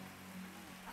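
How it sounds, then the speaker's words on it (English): Steady, dense rain hiss filling the air, constant and fairly faint, with no voices. "And it has a heavy rain here."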